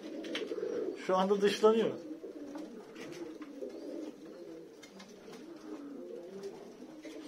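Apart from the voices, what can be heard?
pigeons cooing, male and females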